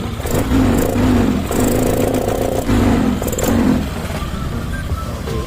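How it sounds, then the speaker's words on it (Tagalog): A Yamaha Nmax scooter engine runs steadily after a timing chain tensioner repair. It makes a loud, close mechanical hum with a few rises and falls in revs and no talking. "Buhay na po yung makina niya."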